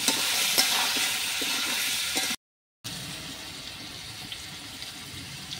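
Potatoes frying in a pan, salted during cooking, as part of a snakehead fish curry: a steady, fairly loud sizzling hiss with occasional stirring scrapes, broken by a brief silent gap before the sizzle resumes more softly.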